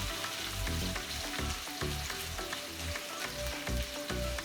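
Instant Dandan noodles frying on a low flame give a steady, close sizzle with crackling pops, broken by periodic stirring scrapes, and no talking.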